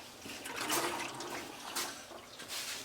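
Quiet, continuous watery gurgling from a part on a running 1959 Ford F100 special delivery truck, a steady bubbling wash with a few brighter surges and no talking.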